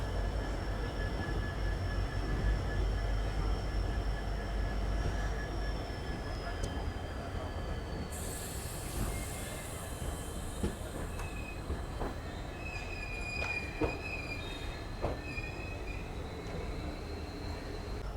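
The Vasco da Gama–Hyderabad Weekly Express pulls out of Vasco da Gama on time, its carriages rumbling steadily while thin wheel squeals and metallic whines rise and fade over a low, fairly quiet rolling drone.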